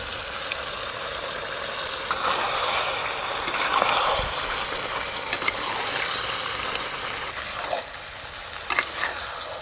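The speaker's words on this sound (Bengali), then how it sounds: "মাংসগুলো দেওয়ার পর একটু ভালো করে নেড়ে নিয়েছি। এবার শুকনো লঙ্কা বাটা আর জিরে বাটা দেব।" Mutton frying in a pan with dried chilli paste and cumin paste gives a steady close sizzle, broken by bursts of scraping as it is stirred. No one speaks over it.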